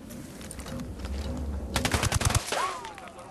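Submachine gun fire in the Ghost Recon Wildlands video game, rapid bursts of cracking shots that swell into a dense volley near the middle, then fade into a trailing whistle with faint ambient noise.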